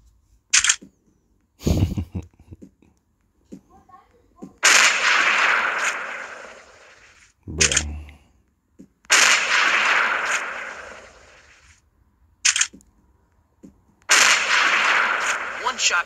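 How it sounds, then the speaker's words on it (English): M200 Apollo sniper rifle firing in a hunting video game, about four loud, sharp shots spaced several seconds apart, each with a long roaring tail, between quieter clicks and handling noises. "The gun sounds terrible."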